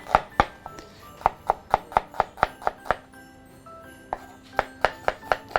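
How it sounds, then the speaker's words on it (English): A knife slices an onion on a cutting board in quick, crisp, evenly spaced chops, close and clear. A brief pause comes partway through before the rapid rhythm resumes. "Next step is I'm going to slice the onion."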